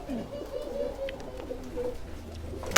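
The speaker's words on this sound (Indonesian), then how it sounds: "Nah, ini burungnya." A racing homing pigeon coos softly and steadily at close range, low throaty murmurs continuing throughout, with a brief louder rustle at the very end and no talking.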